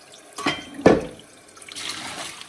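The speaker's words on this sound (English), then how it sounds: "Very quickly, you rinse it off with the cold water." Fiddlehead ferns rinsed in a drainer under cold tap water, with a couple of short splashy bursts followed by a softer, steady trickle close by.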